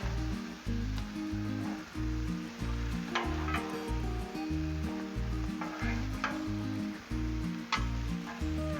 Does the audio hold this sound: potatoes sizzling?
yes